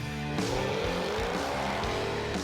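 A Jaguar sports car engine revs loud and close, its pitch climbing steadily, while tire squeal and skidding run beneath it the whole time.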